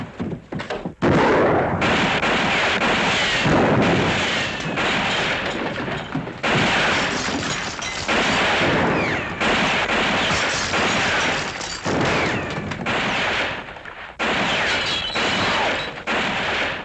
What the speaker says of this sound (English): somebody's shooting at somebody.